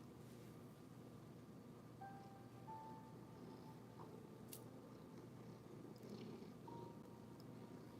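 Pet cat purring, a soft low continuous rumble held steady throughout, close but faint, with a few small clicks and a brief tone in the quiet room.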